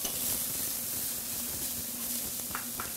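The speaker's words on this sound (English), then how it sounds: "Cook the onions just a little bit to get that bitterness out." Onions, carrots and celery for a roasted red pepper soup sizzling in a pan, a steady broad hiss with a faint low hum and a couple of brief clinks near the end.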